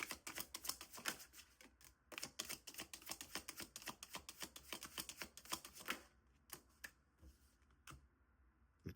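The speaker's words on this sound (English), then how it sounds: "I'm shuffling the wrong side, y'all." Tarot cards being shuffled in rapid riffling bursts, a dense run of crisp flicks for about six seconds, then a few scattered single snaps close to the mic with no talking.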